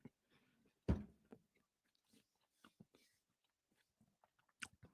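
Someone chews food close to the microphone, with meat and butter mentioned at the meal: one sharp crunchy bite followed by scattered soft, wet chewing clicks in quiet surroundings, with no talking.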